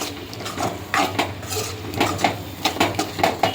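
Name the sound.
mixing dal with coriander and curry leaves in a pot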